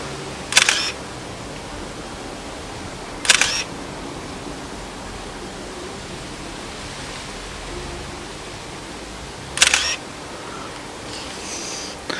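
Handheld camera shutter fires with autofocus, three crisp separate clicks spread across a quiet outdoor garden background with faint hiss.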